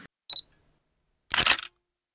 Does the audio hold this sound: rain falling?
no